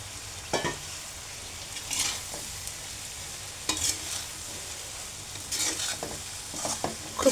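A spatula stirs fried eggs into cooked vegetables for noodles, making several scraping bursts over a quiet, low sizzle in a pan.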